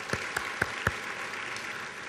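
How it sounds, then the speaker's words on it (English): A few scattered claps from the audience at a Cheltenham High School graduation ceremony for the class of 2010, four distinct hand claps over a faint room hiss, no talk. "and we can applaud."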